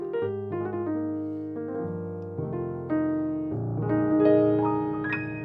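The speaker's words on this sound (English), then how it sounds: "If you use Studio One, you got a piano that sounds like this." Studio One's stock software piano plays a slow sequence of sustained chords and notes, warm, woody, resonant and clear, with no voices.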